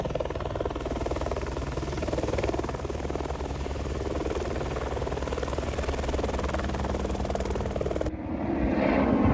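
A rescue helicopter flies over the mountains near K2, its rotor thumping in a steady rapid throb that stays loud and constant before the noise shifts and swells near the end.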